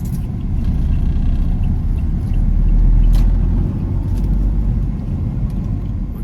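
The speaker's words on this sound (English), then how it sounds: "Traffic is horrendous in this area" Heavy road traffic on a street in Cebu, Philippines: a loud, steady low rumble of many car and motor vehicle engines, swelling slightly midway, with no talking.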